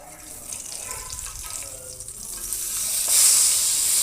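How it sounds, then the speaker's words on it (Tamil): Eggplant slices frying in oil with chili powder give a steady close sizzle, with faint scraping and stirring, and the hiss grows brighter and louder toward the end. "நல்லா ஃப்ரை ஆகணும், இன்னும் நல்லா கலர் மாறணும், நல்லா முறுமுறுன்னு வெயிட் பண்ணுவோம்"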